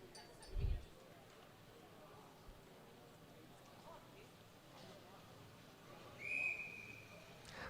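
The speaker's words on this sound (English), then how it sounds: "So the whistle blows." A whistle starts an under-17 men's Keirin race at a junior track cycling meet in Adelaide. One short, clear, moderately distant blast sounds near the end over faint arena ambience, with a soft thump earlier.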